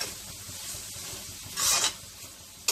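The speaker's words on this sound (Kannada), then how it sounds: "ಹೀಗೆ ಓಪನ್ ಆಗೇ ಫ್ರೈ ಮಾಡಬೇಕಾಗತ್ತೆ" Fenugreek leaves frying uncovered in an open pan for menthe soppu gojju, giving a continuous sizzle with spoon scrapes and two short louder bursts of crackle, close and without voices.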